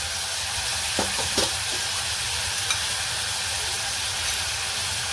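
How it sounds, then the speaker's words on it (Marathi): Coriander powder, turmeric and red chili frying in oil for a bottle gourd curry, a continuous soft sizzle with a few brief scraping stirs early on. "तेलावर छान परतून घ्या धन्याची पावडर हळद आणि लाल तिखट"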